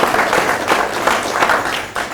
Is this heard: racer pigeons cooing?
no